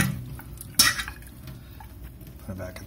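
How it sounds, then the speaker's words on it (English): Partly cooked pasta being tipped back into a pan: a sharp metallic clank near the start, then soft scraping, stirring and clattering of cookware, all close by. "so I'm gonna put it back in the pan here"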